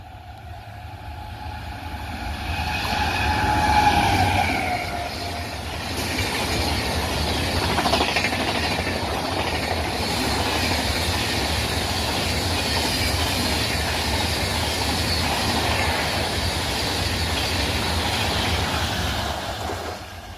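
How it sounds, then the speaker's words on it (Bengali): The Howrah–Jabalpur Shaktipunj Express, train 11448, races through Porabazar railway station at high speed: a horn sounds early, then a loud sustained roar of wagons with rhythmic clickety-clack and squealing wheels, no voices. "চলে আসছে train number 11448 Howrah two Jabalpur Shaktipunj express."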